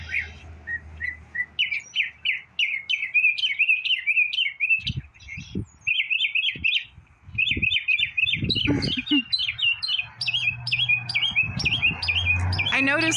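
A mockingbird mimics a cowbird call outdoors in a long run of bright, rapid chirps and whistled phrases. Its song is loud and near. A few low knocks and handling noises sound in the middle.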